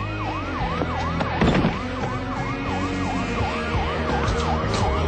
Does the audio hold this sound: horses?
no